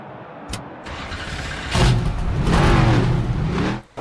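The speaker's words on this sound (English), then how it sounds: "Drivers, start your engines!" NASCAR 25 race car engines cranking and catching one after another on the grid, rising into a loud, layered rumble of revving V8s near and far.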